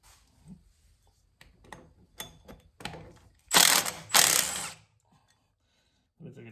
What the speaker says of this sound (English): We're gonna go ahead and remove these two little Allens. You're gonna need a 3/16 Allen.